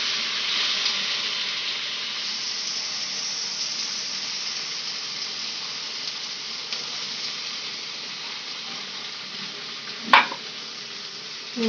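A paste of ginger, garlic, onion and tomato with salt and sugar sizzles softly in a pan for a prawn curry, a steady low frying hiss with light stirring and a sharp clink of a utensil near the end.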